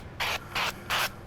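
Avocado oil spray misted onto competition-style ribs, heard as three short, close hissing bursts with brief pauses between them.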